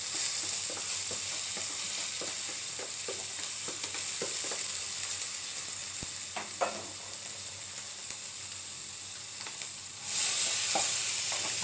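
Semolina (rawa) dry-roasting in a kadhai while being stirred, a steady close sizzle with scattered scraping strokes of the spoon, rising slightly louder near the end.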